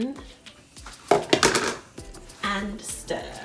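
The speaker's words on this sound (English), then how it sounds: "And stir, stir, stir." Metal spoon scraping and clinking against a pot as lentil stew is stirred, a few irregular strokes, close by.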